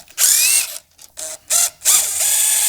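A 3/16 T-handle works loose the primary cover bolts on a Harley Softail, sounding as several loud, close bursts of ratcheting, scraping metal with short gaps between them.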